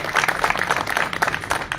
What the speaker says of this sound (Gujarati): એક વખત એ બધા તાળીઓથી ગડગડાટથી બતાવ્યું